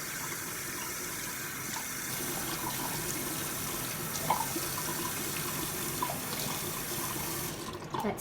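Water runs steadily from a tap into a sink while a face is rinsed, a continuous close gush with faint splashes and small knocks over it.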